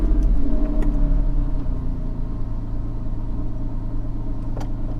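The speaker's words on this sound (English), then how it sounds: "So the first thing is, this is a cold start." A 2009 Porsche 911 Carrera (997.2) with suspected bore scoring starts up cold, beginning with a louder burst of revs before settling into a steady, close rumbling idle with no voices.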